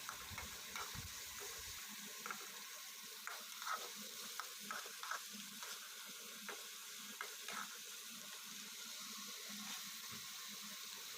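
Chopped onion dropped into a pan with lightly browned urad and chana dal, frying in oil with a steady hiss, stirring scrapes and clicks throughout and a brief low rumble at the start.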